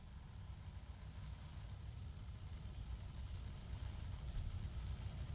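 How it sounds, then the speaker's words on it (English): A supercharged Dodge Top Fuel Funny Car idles under blower boost at a high-altitude drag strip in Denver, a steady, deep, rumbling drone heard from some distance and holding level throughout. "It's one of the rare places on tour when the blowers on these things spin so fast, they're actually idling under boost."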